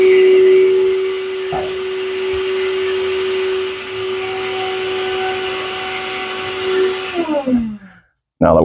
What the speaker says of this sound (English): we're done vacuuming